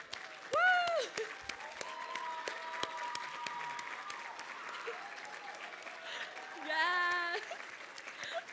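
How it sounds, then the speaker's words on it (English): An audience at a leadership recognition banquet applauds its standing advisors: sustained clapping from a crowd, with whoops and cheers rising at the start and again near the end. "If all the advisors could please stand, let's give them a round of applause."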